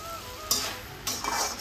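Salted food being stirred in a sizzling pan on a home stove, with steady frying hiss and two bursts of scraping, stirring motion close by.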